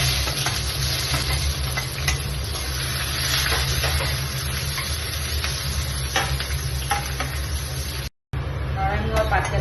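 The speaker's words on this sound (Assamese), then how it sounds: "পিঁয়াজখিনি দিম আমি।" Onions going into hot oil with panch phoron, bay leaf and dried red chilli, sizzling loudly and steadily with stirring scrapes, a broad frying hiss that cuts out briefly near the end before resuming.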